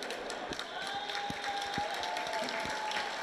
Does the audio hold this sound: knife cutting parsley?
no